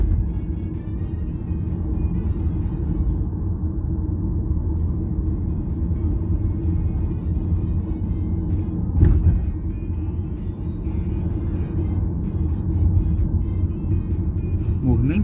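Steady car traffic rolls along a busy avenue on a rainy day, a continuous low engine and tyre rumble with a vehicle passing closer midway, under someone talking throughout.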